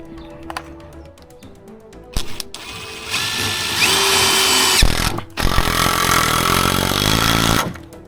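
A power drill drives screws into a greenhouse frame, with short bursts at first, then two long loud runs of whirring under load, broken by a brief pause.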